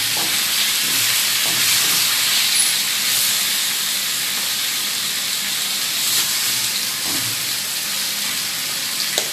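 Potatoes frying in a pan give off a loud, constant steamy hiss and sizzle that holds steady without pause, with faint stirring scrapes now and then.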